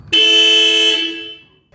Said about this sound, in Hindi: और जाते जाते हॉर्न मार के शोरूम वालों को भी शॉक दीजिए।